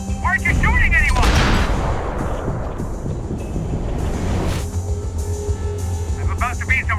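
Gunfire in Max Payne 3 on PC, with dense layered shots and bursts booming through a loud, busy game soundscape that swells around the first seconds and stays heavy. Voices shout over it in places.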